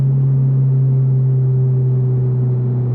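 Deep, steady exhaust drone from a 2024 sports car, either a Toyota GR86 Performance Pack or a Honda Civic Type R, holding a loud, constant low rumble with no revving changes.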